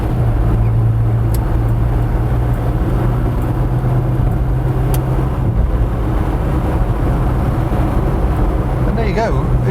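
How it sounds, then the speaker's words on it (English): A Vauxhall heritage car driven hard on a motorway, its engine droning steadily under wind and road noise. Near, loud, and continuous throughout. "Vauxhall have foolishly lent me this car with lots of fuel, so it was only fair enough to take it for a bit of a motorway thrash"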